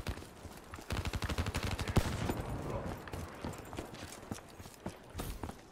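Rapid gunfire from the Black Ops 3 multiplayer game rattles in quick bursts of sharp repeated shots, fairly loud and close, with a brief lull midway before scattered shots resume.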